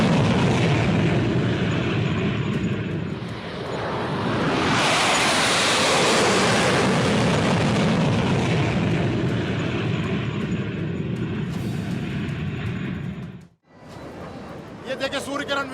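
Surya Kiran aerobatic jets flying at the Aero India 2023 airshow in Bengaluru, a loud broad jet roar swelling past overhead and fading, with a voice speaking over it.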